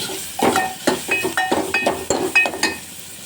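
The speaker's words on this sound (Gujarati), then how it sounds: "ડુંગળીને હું ગોલ્ડન બ્રાઉન સુધી હલાવી દઈશ" Onions frying in a pan for South Indian sambar, stirred with a utensil that makes repeated scraping clinks over a steady close sizzle, with short bursts of activity in a rough rhythm.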